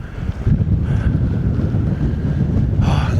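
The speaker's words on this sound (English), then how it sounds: "The wind's picking up, getting a bit chilly." Strong wind buffets a mountaintop in New Zealand, a loud, continuous roar rumbling across the microphone at close range with no voices.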